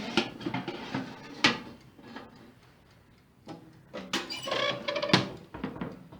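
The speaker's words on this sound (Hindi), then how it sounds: "अब मैं ओवन के अंदर इस फ्रेम को डाल देती हूँ" Metal frame tray slid into a preheated oven set to both-side heating for baking litti, a series of sharp metallic clanks and clatters, close and fairly loud, with quieter gaps between.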